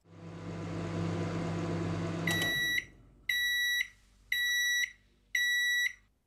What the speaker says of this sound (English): The microwave beeped